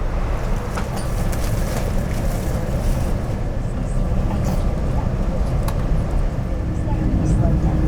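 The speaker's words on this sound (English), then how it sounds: "Here we are pushing back, departing Incheon Airport in Seoul," A Korean Air Boeing 777 pushes back from the gate at Incheon Airport in Seoul, heard from inside the cabin as a steady low rumble and hum of engines and air, with a voice talking over it.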